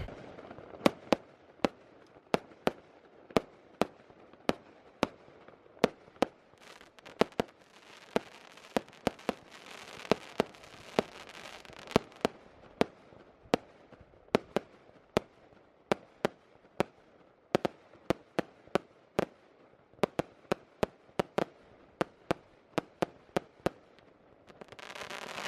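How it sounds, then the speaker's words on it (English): Fireworks burst about 20 feet away near a marina in Spain, a long run of sharp, loud bangs and cracks at irregular intervals, sometimes clustered, with crackling in between. "I'll leave you with some more fireworks."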